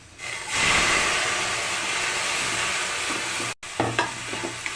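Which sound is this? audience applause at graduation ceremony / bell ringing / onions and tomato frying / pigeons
onions and tomato frying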